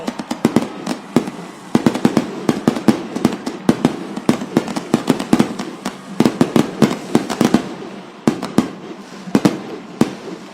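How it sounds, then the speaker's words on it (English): Fireworks bursting at a high school football game, a rapid irregular series of loud sharp bangs and crackles spread over the whole stretch, some overlapping, with no voices. "Look at the fireworks going off to the right side."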